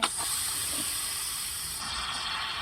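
Steam and water hiss steadily from a pressure cooker in a home kitchen, a loud continuous spray that holds for a couple of seconds and then eases slightly, with no voices over it.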